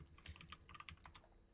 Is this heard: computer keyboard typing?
yes